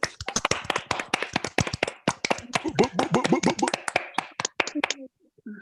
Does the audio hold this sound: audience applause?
yes